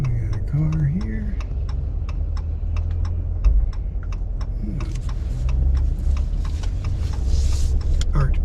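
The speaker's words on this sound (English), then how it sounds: "We got a car here." A car pulls in at a boatyard on launch day for an Allied Princess ketch, its steady low rumble continuous throughout, with a faint regular ticking and people talking nearby.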